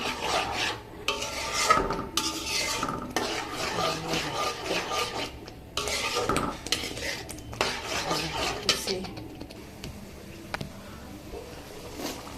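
Chili hilsa fish stirred and sautéed in a pan, a continuous scraping and rasping of utensil against the pan with clinking, close and fairly loud throughout.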